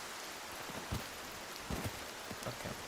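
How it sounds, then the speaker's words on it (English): Steady rain falls in the video game Cairn, a continuous hiss with scattered louder drip and splash impacts, moderately close and alone without talk. "It's decided to rain at the worst fucking time, too"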